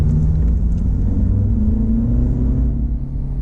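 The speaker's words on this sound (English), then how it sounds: "it's got a four-cylinder engine producing" A Honda HR-V with a four-cylinder engine accelerates on pavement, giving a steady, close engine rumble with a rising drone from inside the car.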